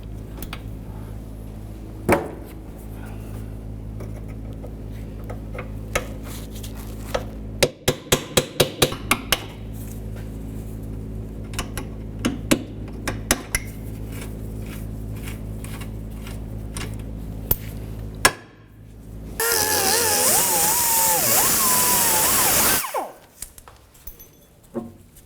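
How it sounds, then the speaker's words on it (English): Hammer and chisel on a Honda Civic rear sway bar link, knocking off the leftover remnants of a nut: scattered sharp metallic taps with a quick burst of strikes, followed by a louder whirring stretch near the end. "Just going to try and chisel off the little remnants of the nut here"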